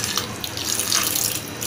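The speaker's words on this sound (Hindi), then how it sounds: "अब हम इसमें 1 ग्लास पानी डालेंगे।" Glass of water poured into freshly squeezed bijora citrus juice in a kitchen, a steady splashing liquid stream, close and moderately loud, with no talk.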